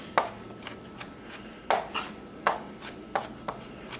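A knife chops capers and pickles on a cutting board for tartar sauce, giving sharp, irregular taps about every half second, close and clear with no voices.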